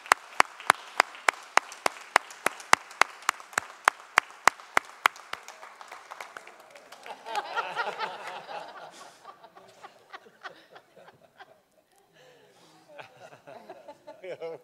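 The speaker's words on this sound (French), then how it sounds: "je vous invite à l'applaudir évidemment" Sparse, sharp claps from a small audience ring out in a steady rhythm at a city council meeting, then give way to chuckles and murmuring talk.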